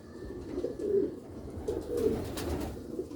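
Pigeons coo softly and repeatedly at close range in a low, throaty murmur, with no talking.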